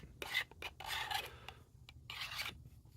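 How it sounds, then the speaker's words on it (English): Back edge of an X-Acto knife scraping and deburring the edges of an HO scale plastic model kit part, producing several short, close rasping strokes in separate bursts with brief pauses between them. "you can take the back of your X-Acto, right, and use it to clean up edges, kind of like as a deburring tool"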